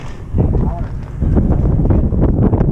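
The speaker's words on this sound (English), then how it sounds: "It is really windy." Strong gusts of wind buffet the microphone at an offroad park with a loud, low rumble that surges and roughens throughout.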